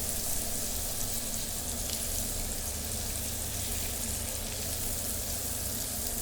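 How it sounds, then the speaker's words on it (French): Turnips brown in a hot frying pan, giving a steady, dense sizzle and crackle that holds evenly throughout at moderate loudness, with no voices. "on a nos navets qui commencent à colorer"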